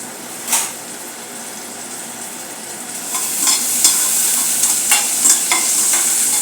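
Finely chopped garlic and ginger sizzle in hot oil in a frying pan for veg momos, a steady crackling hiss with a few sharp spatula scrapes and stirs rising midway.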